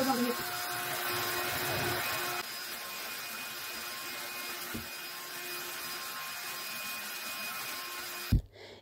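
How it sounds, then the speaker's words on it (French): A Lidl vacuum cleaner runs across a bathroom floor with a steady whirring drone close by, its pitch dropping partway through before a sharp knock near the end. "Je vais aspirer toutes les poussières avec l'aspirateur de chez Lidl"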